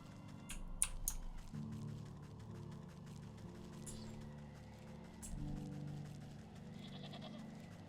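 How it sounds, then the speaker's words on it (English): Goat bleating in the video game Wytchwood, faint and short cries over a low droning game soundscape with a few sharp clicks near the start. "A goat."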